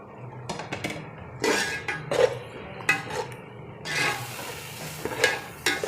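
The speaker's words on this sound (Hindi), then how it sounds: "अभी इसके अंदर ये टमाटर शामिल करेंगे।" Tomatoes tipped into browned onions in a cooking pot for beef yakhni pulao, giving several close clanks of metal pot and utensil with stirring scrapes at irregular intervals.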